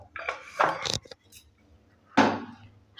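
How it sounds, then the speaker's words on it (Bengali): A plate is set down on a kitchen counter while bread rolls are being made, with a couple of short clattering knocks of crockery, separated by a brief quiet pause, close by. "প্রথমে প্লেটটাকে একটু সাইডে রেখে দিচ্ছি"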